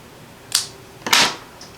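Scissors snip a folded piece of card paper in half, giving two sharp, close cuts about half a second apart, the second one longer and louder, against a quiet background.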